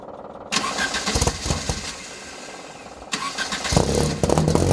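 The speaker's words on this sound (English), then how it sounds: "I love the exhaust note. It sounds fabulous for a four-cylinder." A 1967 Alfa Romeo GTV's four-cylinder engine, fitted with a muffler, fires up and idles roughly, then revs briefly through a loud exhaust, with clattering mechanical sounds nearby.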